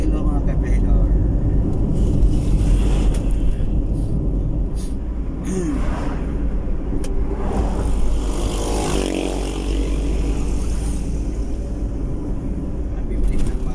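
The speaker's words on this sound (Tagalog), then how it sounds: "Ang bibilis ng mga motor tumakbo dito ah." Motorcycles on a road through Balantag, Haro in Iloilo, their engines a steady loud roar with whooshes as they speed past, wind buffeting throughout and a voice talking over it.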